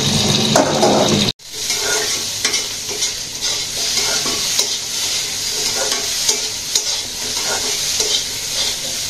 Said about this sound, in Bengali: আবার পেঁয়াজ ভাজলাম